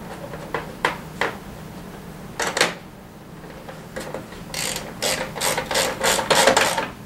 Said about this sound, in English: Just snug them up with the 8mm ratchet.